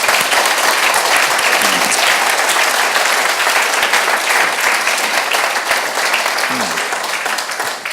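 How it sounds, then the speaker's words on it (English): A large conference audience claps and applauds steadily for several seconds, a dense wash of hands with a few scattered voices, fading slightly at the end. "So a big round of applause to our fantastic presenters."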